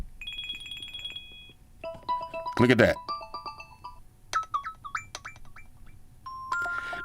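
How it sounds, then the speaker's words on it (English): Several different Apple Watch electronic ringtones and chimes play one after another, melodic beeping tones, with a voice talking briefly over them. "now you got different sounds. You got different ringtones."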